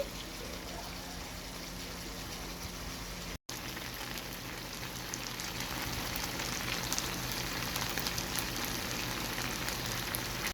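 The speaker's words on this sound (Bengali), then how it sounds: "চিকেনটাকে ভেজে নিচ্ছি" Spice-marinated chicken frying in oil in a pan, a continuous dense sizzle and crackle heard close and alone, with a brief cut partway through.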